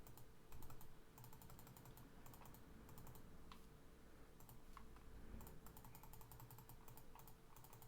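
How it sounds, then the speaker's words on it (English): Rapid, faint clicks from a computer mouse are picked up by a budget microphone. They come in quick bursts over a low steady background hum. "So now I'll try clicking."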